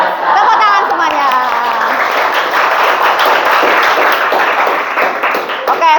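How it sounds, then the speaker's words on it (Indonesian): Students applauding in a classroom: a dense, continuous patter of hand claps throughout, with a voice speaking over the start and some chuckling. "Tepuk tangan semuanya."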